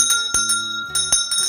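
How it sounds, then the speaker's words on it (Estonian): Small hand bell rung close up in a short burst of several bright, clear strikes with shimmering overtones, rhythmic and slightly uneven, with no talking. "ma korra kõlistan kellukest natuke siin."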